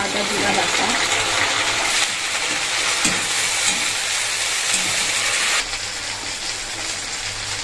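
Fish and potatoes frying together in oil in a pan, a loud continuous sizzling hiss with occasional light clinks of stirring, steady throughout.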